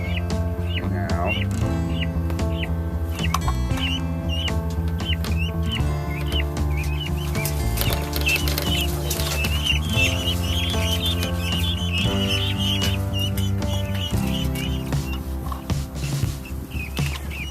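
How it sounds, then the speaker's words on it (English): A flock of guinea fowl calls close by in a busy, repetitive chorus of harsh, rhythmic cackling chirps that continues throughout, with occasional faint human speech underneath. "guineas are fed, watered, still unhappy about their lot in life"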